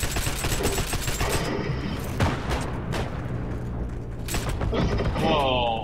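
Gunfire in a Second World War shooter video game near a contested bridge: dense volleys and sharp bursts of rifle and machine-gun fire, with booms and mechanical clatter, loud and continuous.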